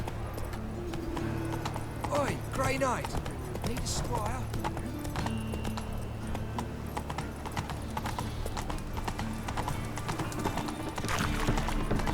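Steady hoof clip-clop from the horse Roach in The Witcher 3, plodding under a busy town ambience with a brief whinny and voices talking over it.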